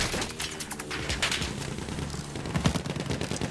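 Gunfire from a gunner shooting at an airship in Battlefield 1: dense rapid bursts of shots blending into continuous crackling battle noise with occasional booms, at moderate loudness.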